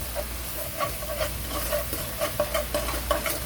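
Seasoning sauce with mirin and minced garlic, for stir-fried small anchovies, bubbling and sizzling steadily in a pan, with soft repeated stirring scrapes, close and fairly quiet, no voices.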